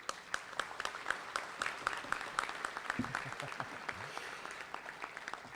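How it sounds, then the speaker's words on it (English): A modest crowd at a community business breakfast claps for an award honoree with individual claps standing out. Some voices chatter partway through. "Let's give a big rousing round of applause for Kevin Gibson."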